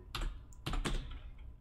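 Fingers tap a few quick keys on a computer keyboard, close and fairly quiet, in two short clusters with no talking.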